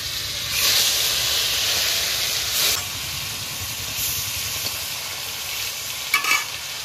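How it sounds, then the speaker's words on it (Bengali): Small chara pona fish fry in hot oil for a bottle gourd curry, giving a continuous loud sizzle and hiss. It swells when the fish go in, settles into steady crackling, and ends with a few sharper spits near the end. "এবার তেলের মধ্যে মাছগুলো ফুটিয়ে দেবো"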